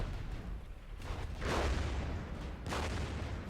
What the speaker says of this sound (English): we're going to call in a strike on the enemy position here.